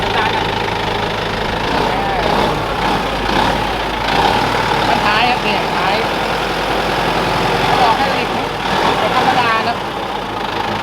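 A Massey Ferguson tractor engine runs at a rough, steady idle after starting, heard near with people talking over it throughout.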